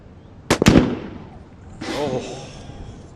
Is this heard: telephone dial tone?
no